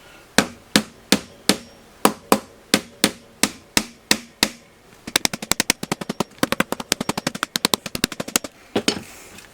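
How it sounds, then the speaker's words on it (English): A soft hammer beats a dented metal panel flat on a Boonton 2520 RF calibrator. About a dozen evenly spaced, sharp blows land first, then a rapid flurry of lighter taps. The strikes are close and loud, with no talking. "I should be able to literally stick on this like this and just use the soft hammer and pop that back out."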